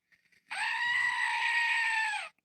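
A goat bleats once in a loud, strained, nasal cry that holds for nearly two seconds, heard close and alone after a few faint clicks.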